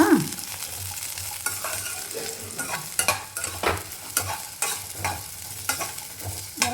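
Chopped ridge gourd fries in a pan over a gas flame, its low sizzle broken by repeated scraping strokes of a spatula at an uneven pace, close and fairly loud.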